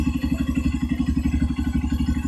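A stock Honda CRF 150L motorcycle engine with a remapped ECU screams steadily at high RPM near its limiter, a loud, close, pulsing drone held without letup.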